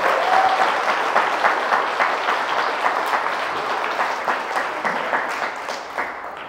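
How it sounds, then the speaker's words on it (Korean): An audience at a health seminar gives a long round of thanks applause, steady dense clapping from a sizable crowd that holds evenly and slowly tapers. "모든 분들께 다시 한번 감사의 박수를 하시기 바랍니다"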